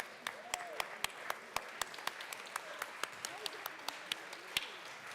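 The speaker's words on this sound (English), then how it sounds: "We give a big round of applause." Applause in a state legislative chamber, the Colorado House, greets guests from a local security company. It comes as sparse, ragged clapping with distinct individual claps through the room, moderately loud and steady throughout.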